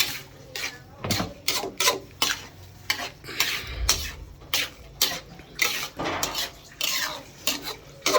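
A utensil stirs scrambled eggs with tomatoes in a pan, producing repeated scraping and clacking strokes in a steady rhythm over a soft sizzle, close and fairly loud.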